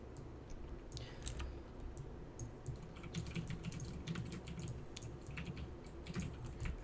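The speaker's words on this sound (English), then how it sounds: "Both have mechanical keyboards." Rapid clacking keystrokes on mechanical keyboards at a gaming tournament, a busy, uneven patter of sharp clicks throughout, fairly faint and with no talk.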